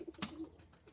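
Stock pigeon cocks in a loft give a soft, low coo with one brief brighter note, fairly quiet over a faint background hum.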